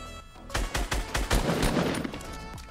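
Rapid bursts of gunfire in the battle royale game Fortnite, a quick string of sharp loud shots close together over about two seconds, then fading out.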